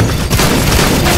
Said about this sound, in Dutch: Ik heb 3 schoten gelost, heeft ze allemaal gemist.